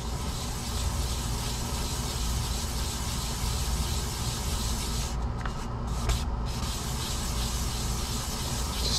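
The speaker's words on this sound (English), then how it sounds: "if you take your fingers and you spread the sandpaper out and press down on it" Sandpaper is rubbed back and forth against a Kyosho MP10 RC differential part in a steady, continuous scratching hiss, close up and fairly loud, with a few brief pauses and no speech.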